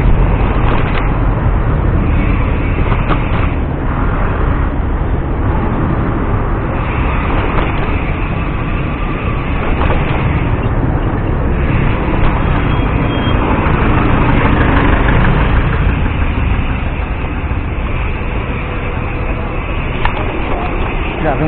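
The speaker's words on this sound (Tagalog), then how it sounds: "Grabing traffic dito." Heavy, slow-moving road traffic on a Manila-area route near MRT construction, with idling and rumbling engines forming a dense, steady wall of noise throughout, with occasional voices faintly underneath.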